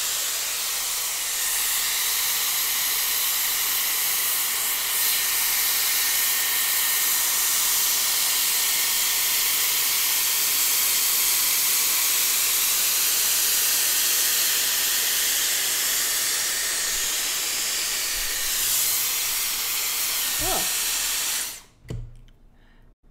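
A Dyson Airwrap round volumizing brush blows on its high setting, a loud, steady hissing rush of air that runs unbroken for about twenty seconds before cutting off abruptly.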